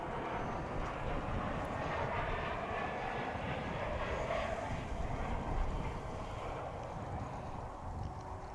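A jet airliner takes off from runway 18 left at DFW International Airport, a steady distant engine roar that swells slightly midway, heard alone without talk.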